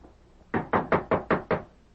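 Five heavy knocks on a wooden door of a frontier cabin, evenly spaced and loud and close, with no voices over them.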